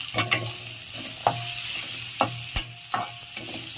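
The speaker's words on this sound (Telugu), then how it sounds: "మీడియం ఫ్లేమ్లో వేయించుకుంటే కనుక ఉల్లిపాయలు మాడిపోకుండా కొంచెం క్రిస్పీగా పోపులోకి చాలా బాగుంటుంది" Onions fry in a tempering over a medium flame, a steady soft sizzle broken by several sharp scraping stirs of the spoon against the pan, close and clear with no talking.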